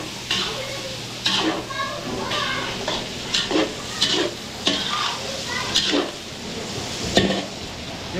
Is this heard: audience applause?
no